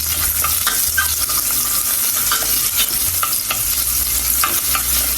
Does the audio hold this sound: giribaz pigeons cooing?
no